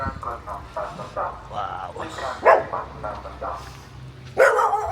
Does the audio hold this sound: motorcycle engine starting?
no